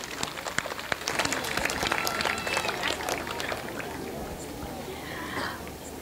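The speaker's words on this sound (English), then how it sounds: "So a big round of applause from parents for all the lovely children" Parents applaud children after a school production of Alice in Wonderland at Delhi Public School, Faridabad, with dense, sustained clapping filling the hall alongside murmuring crowd voices.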